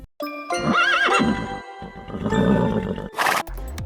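A horse lets out a loud, close whinny with a wavering, rising-and-falling pitch, followed by further snorting and neighing, with a hint of hoof clip-clop and no talking.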